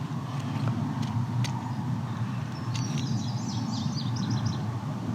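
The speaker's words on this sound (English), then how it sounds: "We're hearing indigo bunting singing." An indigo bunting sings a brief, faint run of high chirping notes over a steady rumble of nearby highway traffic in open meadow farmland.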